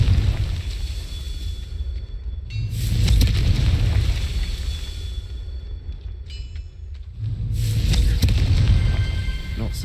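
Fire spell explosions burst in a fantasy video game, two heavy booming blasts with deep rumbling roars that swell, fade, and come back, loud and close, over crackling debris.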